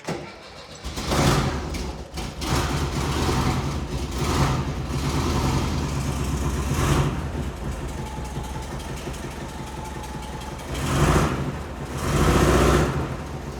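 A 1974 VW Bus engine cranks over and settles into a steady idle, with a couple of brief swells from slight revs, close and continuous with no talk.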